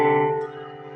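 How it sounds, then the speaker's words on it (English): A dissonant interval of a second, two tones struck together and left to ring, sounding once and decaying over about a second, alone and fairly loud. "This interval of a second"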